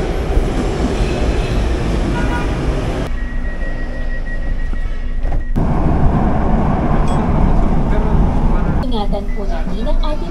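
A light rail (LRT) train rumbles steadily into a station, with loud continuous rolling noise, brief squeals and an announcement-like voice near the end.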